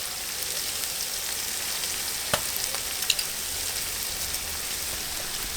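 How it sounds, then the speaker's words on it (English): Onion and spices sizzle steadily in hot oil over a log fire, a continuous close crackling hiss with a few sharper pops and no talking. "the onion is sizzling"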